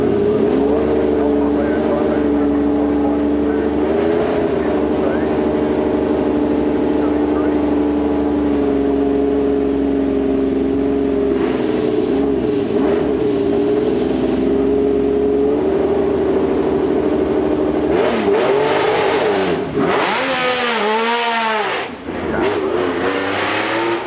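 A Nissan race car roars up the Goodwood Festival of Speed hill course, its engine note loud and sustained through long pulls, with rising and falling sweeps late on as it revs and shifts, and a commentator speaking over it.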